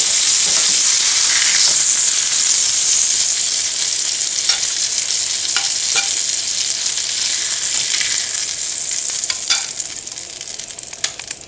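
Chapli kabab frying in a pan gives a loud, steady, close sizzle with scattered crackles and pops throughout.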